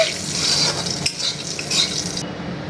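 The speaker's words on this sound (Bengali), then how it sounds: "এবার এই গরম তেলেই আমি দিয়ে নেব একটা তেজপাতা আর একটা শুকনো লঙ্কা।" A bay leaf and a dried chilli stirred in hot oil in a kadai while cooking prawns, giving a steady close sizzle with soft scraping stirs throughout and no talk.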